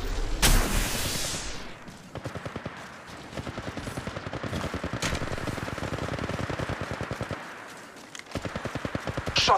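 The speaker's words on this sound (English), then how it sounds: "Shots fired at me." Automatic gunfire in the mobile battle royale Apex Legends Mobile: long rapid bursts of evenly spaced shots, a short pause, then another burst, with a loud blast near the start.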